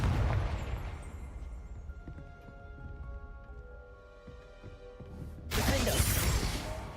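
A Confringo spell explodes in the Hogwarts video game: a loud, broad blast opens the moment, tonal music hums between, then a second heavy burst erupts and roars on to the end. No one speaks.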